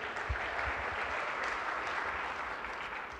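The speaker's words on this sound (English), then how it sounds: "Round of applause for them." An audience at an ANC Gauteng dialogue event gives a round of applause, continuous and even clapping from a large crowd, fairly distant, without speech.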